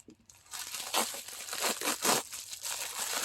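Crinkling plastic packaging of a Remington haircut kit is cut with scissors and rustled in short bursts at close range, with no talking.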